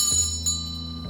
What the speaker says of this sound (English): So while it's still intact and sounding pristine, I recorded its peal using two mics at the same time.